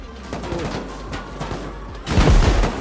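Gunfire and turret shots in the survival game Rust, a steady patter of distant shots followed by a louder, heavier burst of impacts near the end.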